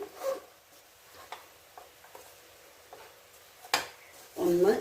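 A spoon stirs and tosses a dry banana flower thoran mixture in a pan, making sparse, quiet scrapes and sharp taps against the metal, with a voice briefly speaking at the end.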